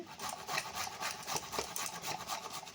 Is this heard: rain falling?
no